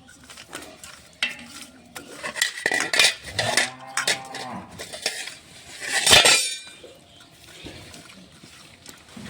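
Singhi fish being mixed by hand with turmeric powder and salt in a metal dish, producing wet squelching and occasional clinks of the dish, moderately loud and close, with no talking.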